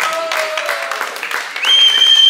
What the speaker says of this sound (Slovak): Poprosím vás, velikánsky aplauz!